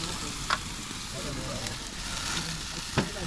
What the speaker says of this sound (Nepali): आगो बलिरहेछ हौ त्यो बोसोमा झन् बोल्छ